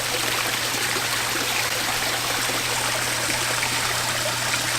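Water from a garden pond filter flows and splashes steadily, a constant broadband rush like a small waterfall with a low steady hum beneath, close and continuous with no talking.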